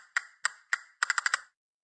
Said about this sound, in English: You hold the castanets in your hands and clap them together to create rhythms